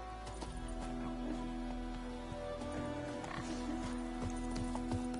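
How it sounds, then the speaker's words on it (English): A horse gallops in the video game The Witcher 3, with rhythmic hoofbeats and clip-clops over a low, quiet game ambience that has a steady hum. "Where's my horse?"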